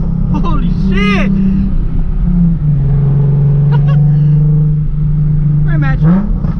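A Nissan 370Z with a loud aftermarket exhaust revs hard up close, rising and falling tones holding a steady roar between blips, while people shout and talk excitedly over it.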